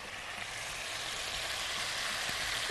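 Chicken pieces frying in a pan with spices, salt and black pepper, giving a steady close broadband sizzle that holds even throughout, with a faint stir or clack near the end.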